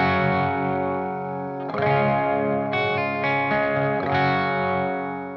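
An electric guitar played through a distortion pedal with its volume knob rolled back plays a few sustained chords with a fairly clean tone, lightly shimmering with a chorus-like effect, each chord ringing before the next.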